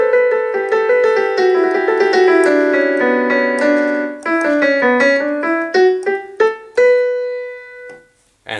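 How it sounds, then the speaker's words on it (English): Yamaha NP-30 electronic piano on a chorused piano voice, a flowing melodic run of notes with a shimmering, fattened tone, loud and close, ending on a sustained note and a final short stab, no voices. "it's a similar sound, but it's chorused"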